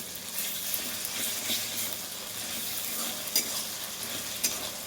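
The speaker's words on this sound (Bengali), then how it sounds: "এটা দিয়ে এবার আমি এটা একটু নেড়ে নেবো আর কি।" Chicken liver and stomach with ginger-garlic paste are stirred in hot oil in a frying pan, giving a continuous close sizzle broken by scraping stirs and a few light utensil clicks.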